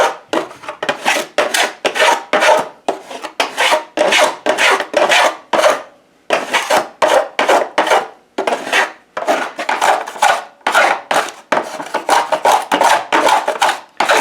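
A wooden guitar side being thinned down by hand, heard as a loud rhythmic scraping and rasping in quick repeated strokes, with a brief pause partway through before the strokes resume.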